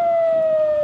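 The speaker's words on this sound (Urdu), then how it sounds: "مختلف علاقوں میں سائرن بج اٹھے۔" Air raid sirens in Israel wail as one steady, sustained tone throughout, loud and unbroken, with no speech.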